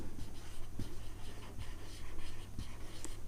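A pen scratches across paper in soft, quick strokes, faint and close, during a class 10 geometry lesson, with light background murmur.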